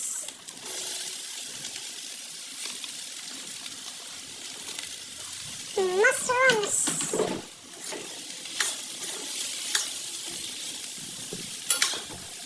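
Mushrooms sizzle steadily in a hot frying pan while being stirred, with scraping and clattering of a utensil against the pan and a brief burst of squeaky stirring midway, close and continuous.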